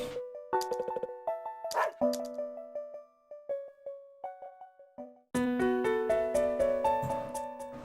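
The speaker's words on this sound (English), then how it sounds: "These are awfully strangely made dog noises." In a video game, a dog gives oddly synthetic barks and yips in short bursts, fairly quiet at first and then a dense, louder flurry near the end.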